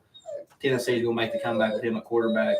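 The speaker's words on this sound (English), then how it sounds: "Sorry if you can hear the dogs in the background." Dogs whimpering and whining in the background, partly masked by someone talking steadily about football over most of the stretch.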